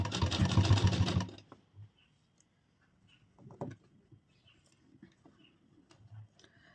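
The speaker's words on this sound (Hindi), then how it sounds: "इस पे भी हम चारों तरफ सिलाई लगाएंगे।" A sewing machine runs briefly and loudly along a folded blouse edge, then stops, leaving faint ticks and small handling sounds.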